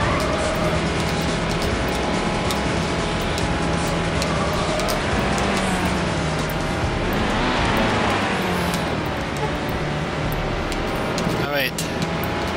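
An R34 GTR overtakes in the racing game Need for Speed: High Stakes, a steady, loud engine roar that swells briefly as the car passes and then settles back into a constant drone.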